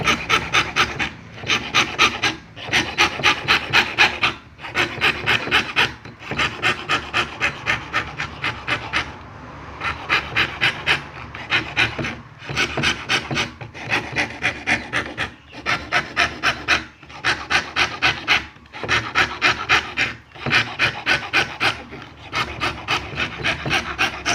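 Rhythmic hand sawing through wood with a fret saw, quick rasping strokes in bursts with short pauses between, close and loud, no talking.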